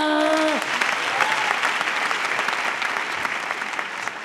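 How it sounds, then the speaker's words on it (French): A comedy show audience breaks into loud, sustained applause that fills the room. A brief voice is heard at the very start. "on va faire comme si je venais encore, hein, vous applaudissez."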